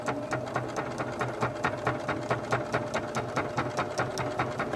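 A sewing machine stitches pillowcase fabric in a steady, close, rhythmic patter, working a few stitches forward, backing up, then running forward again, with no talking over it.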